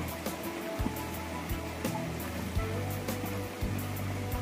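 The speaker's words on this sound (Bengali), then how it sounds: "এবার আমি একটা করে মাছগুলা দিয়ে দেব।" Pangas fish pieces go one by one into a hot pan for a cauliflower and tomato curry, setting off a loud, steady hissing sizzle close by, with a few soft thumps as each piece lands.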